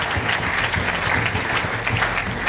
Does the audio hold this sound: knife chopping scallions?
no